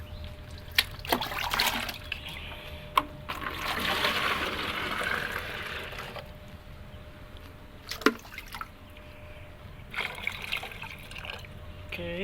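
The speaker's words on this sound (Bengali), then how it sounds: "আগে এখানে পানি দেই।" Water poured into a container for treating a betta fish, a splashing trickle with drips and a few clanks of handling, with speech around it.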